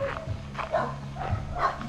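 A dog barks repeatedly at a garden stay-vacation resort in Santa Maria, Laguna, the short barks spaced about half a second apart and heard faintly from a distance over steady background noise.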